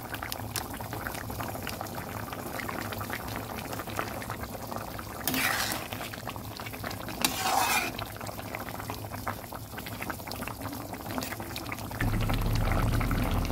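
A koi fish and potato curry bubbles in a pan, a soft steady simmer with a couple of brief louder bursts of liquid and a gentle stir, heard close and alone without speech.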